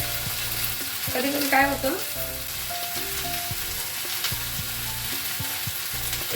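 Onions fry in hot oil with a steady, loud sizzle. Someone talks over the frying.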